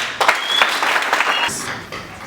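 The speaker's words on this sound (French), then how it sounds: "Voilà, Louis-France, sous nos applaudissements." Audience applause greets a speaker at a French-language gathering, a short burst of clapping that fades out after about a second and a half, with some voices mixed in.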